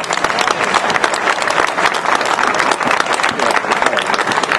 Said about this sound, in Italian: chiedo un ulteriore applauso per Alessio Angelico.